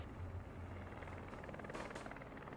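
A drone flies in a video game, giving a steady whirring rotor drone with a brief louder swell near the end. The sound is moderately loud and continuous.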